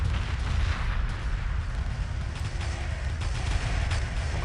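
Gun platforms firing pulse weapons in a Homeworld space battle, a dense continuous barrage of overlapping rumbling shots and booms at steady loudness throughout.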